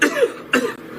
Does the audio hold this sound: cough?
yes